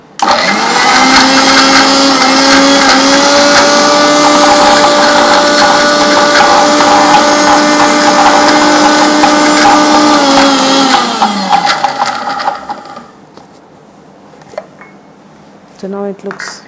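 A kitchen mixer grinding hazelnut praline with a little flavorless oil into a smooth paste, a loud steady motor whine for about eleven seconds that winds down and stops, followed by faint handling clatter.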